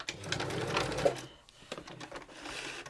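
A sewing machine back-stitches a fabric ruffle in short mechanical bursts, close and moderately loud, then pauses briefly before stitching resumes.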